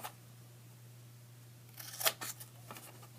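Scissors snipping paper to cut small square cutouts, a few quiet close cuts near the end over a low steady hum.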